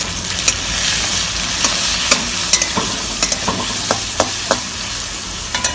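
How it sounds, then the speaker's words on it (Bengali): Bhola fish frying in a pan with salt and turmeric while being stirred, a loud continuous sizzle broken by repeated sharp clicks and scrapes of the spatula against the pan. "এবার লবণ হলুদ দিয়ে নাড়াতে রাখো।"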